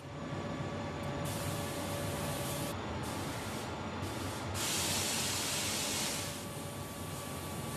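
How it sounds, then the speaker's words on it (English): A spray gun lays a top coat of paint on a Fiat 500 in a workshop, a steady close hiss that runs throughout, briefly cutting out and returning, and swelling louder for a stretch near the end. "You can see that Raj is putting on the top coat now"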